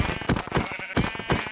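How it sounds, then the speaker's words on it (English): Sheep bleating in the Minecraft 1.18 survival game world, a few repeated close bleats in quick succession, loud and clear with no talking. "there's even more sheep"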